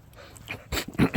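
A dog whimpers and pants outdoors the morning after heavy atmospheric river rain, soft whines followed by a few close, breathy bursts of panting toward the end.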